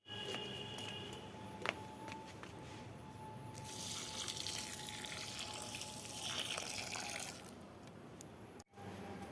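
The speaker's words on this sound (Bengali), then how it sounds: "লঙ্কার চারাগুলোতে জল দিয়ে দিলাম" Water gushes and splashes onto chili seedlings in garden soil, a steady hiss that swells for a few seconds in the middle before tapering off, set against quiet outdoor background.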